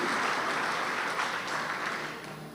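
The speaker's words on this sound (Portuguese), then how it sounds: "Dê um aplauso bem forte ao Senhor nessa noite" A church congregation gives a loud round of applause at an evening service, a dense, steady wash of clapping throughout.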